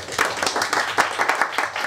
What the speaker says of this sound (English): give a round of applause for the Knights of Improbable,